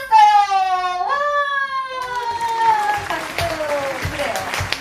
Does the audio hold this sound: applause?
yes